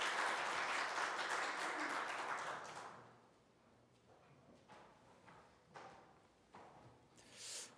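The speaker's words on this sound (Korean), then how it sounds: "우리 부서장님들께 감사의 박수로 한번 우리 격려하겠습니다." A church congregation at a Sunday worship service applauds its department heads. Dense clapping lasts about three seconds, then fades to scattered individual claps and faint room noise.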